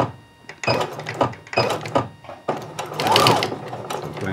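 A sewing machine stitches a bar tack across a seam on a pair of shorts, its needle running in several quick bursts with short pauses between them, close and fairly loud with no talking.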